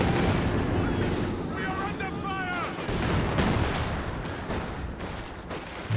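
Land Mattress rocket barrage in Company of Heroes 2, a dense continuous roar of rapid launches and explosions filling the whole stretch, loud and near, with someone commentating over it.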